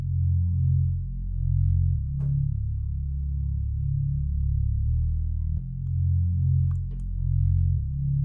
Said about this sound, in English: This is the synth bass.